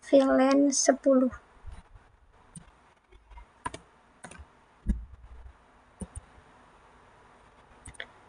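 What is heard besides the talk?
typing switch configuration commands on a computer keyboard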